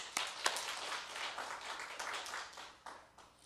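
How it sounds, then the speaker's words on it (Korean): Faint, distant congregation clapping during a Sunday afternoon church worship service, a steady patter of many hands with a few sharper claps standing out. "하나님께 영광의 박수 돌리겠습니다"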